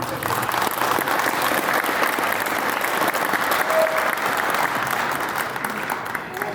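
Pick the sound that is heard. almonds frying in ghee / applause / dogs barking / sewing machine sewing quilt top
applause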